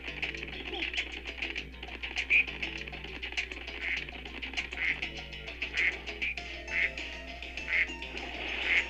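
Video game duck quacking in Spyro 2: Ripto's Rage, a series of short, nasal quacks repeating about once a second over soft game background sound.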